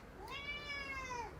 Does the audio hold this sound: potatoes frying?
no